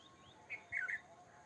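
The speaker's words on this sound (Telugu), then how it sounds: "బర్డ్స్ వాయిస్ వింటున్నారా" A few short, high bird chirps ring out over a quiet outdoor background near Paderu, coming in a small cluster near the middle.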